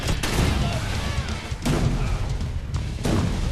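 Gunfire aimed at the player in the 2013 Rise of the Triad shooter: three heavy, booming shots spaced about a second and a half apart, each with a sharp attack and a rumbling tail, with a voice talking in the background.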